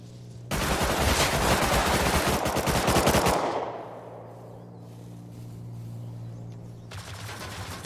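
An M2 machine gun in the Rust console video game fires a long, loud, rapid automatic burst for about three seconds. The sound then dies into a droning hum, and a second burst starts near the end.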